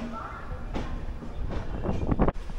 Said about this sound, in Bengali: ট্রেন আমাদের সঠিক সময় ছেড়ে দিল